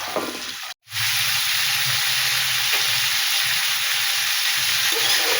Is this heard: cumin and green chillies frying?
yes